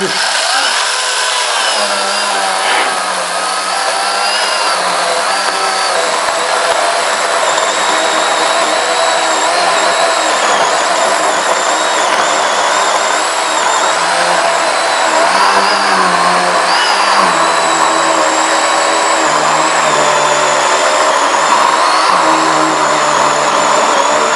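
A cordless saw cuts a 1.6 m roll of masking net in two, a loud, close, continuous buzzing whine that holds steady for the whole stretch with slight changes in pitch.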